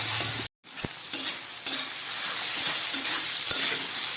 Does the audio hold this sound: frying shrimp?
yes